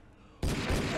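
In the Deer Simulator video game, a sudden loud burst of gunfire cuts in after a quiet moment and carries on as a dense, booming rattle of shots.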